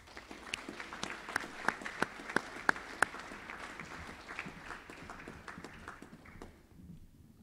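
Scattered applause at a boys' high school prize giving, a handful of sharp, loud claps standing out early over thinner clapping that fades away by the end.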